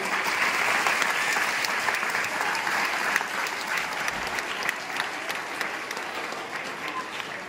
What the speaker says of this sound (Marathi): टाळ्यांचा प्रचंड आवाज होऊ द्या